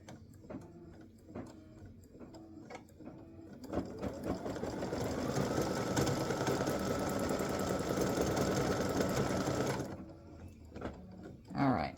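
An embroidery machine stitches a circle around the center of an appliqué bow on a Christmas gnome girl design, a steady whirring rattle running for several seconds between shorter bursts of stitching and quiet pauses.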